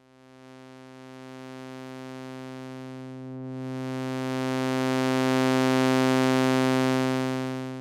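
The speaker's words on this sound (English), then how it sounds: "As I bring up the Y input, the X and Y inputs for the ring modulator will be multiplied together." An AJH Synth Ring SM Eurorack ring modulator multiplying its X and Y inputs gives a sustained harmonic electronic drone. It swells gradually louder and brighter partway through as the second input is raised, with no voices.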